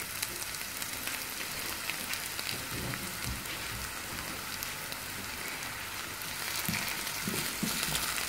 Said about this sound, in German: ich gebe noch ein bisschen Öl rein, dann verbrennt man noch die Zwiebel